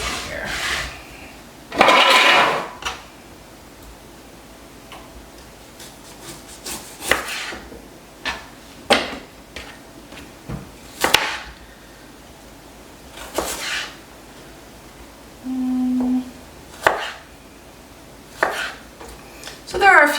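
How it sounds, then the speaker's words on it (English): Knife chopping and mincing freshly harvested produce on a board, heard as irregular bursts of sharp chops spread through the quiet, some louder and closer, with one brief tonal clatter. "I'm just going to mince them up."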